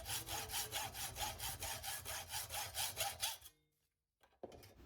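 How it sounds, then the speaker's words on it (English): A hacksaw cuts through a steel bolt clamped in a vise, about fourteen steady back-and-forth strokes, close and rhythmic, then stopping abruptly, followed by near silence and a faint knock. "I grip the bolt in my vise and cut it off to length using my hacksaw."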